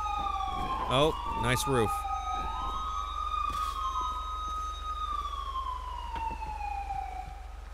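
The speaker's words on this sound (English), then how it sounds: "Siren sounds beautiful." Police sirens in a video game wail steadily in the distance, several overlapping tones rising and falling, with a brief spoken remark near the start.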